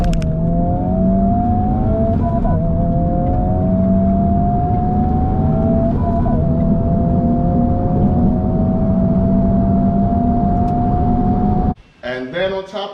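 A Honda Civic Type R FL5 revs hard and shifts through gears, a loud rising engine tone climbing in repeated pulls with brief dips at each change, then cutting off near the end.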